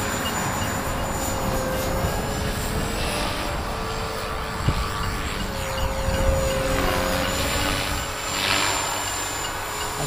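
A Thunder Tiger E325 Mini Titan electric RC helicopter flies in wind with idle-up engaged for 3D and inverted flight. Its high-pitched rotor and motor whine holds steady and fairly near, swelling and fading slightly as it maneuvers.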